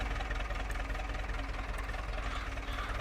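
Farm machine engine idling in a farming video game, a low, steady droning rumble with a faint knocking texture, quiet and continuous with no talk over it.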